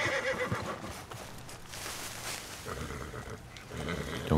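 Horses in the Red Dead Redemption 2 video game: whinnies and snorts mixed with hoof clatter and scuffling, fairly close and continuous through the whole stretch.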